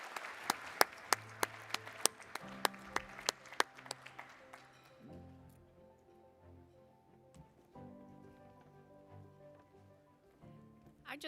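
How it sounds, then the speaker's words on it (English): Applause from a forum audience: sharp, distinct claps for about four seconds, then fading into a softer low murmur of room noise and movement, fairly quiet overall. "Give everybody a round of applause again"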